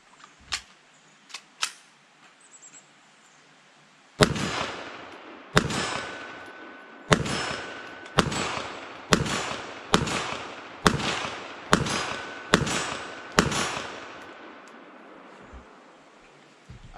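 A Walther WMP .22 Magnum pistol fires at a steel plate 25 yards away: about nine sharp, loud shots in fairly even succession. A few faint clicks come before them, and no one speaks.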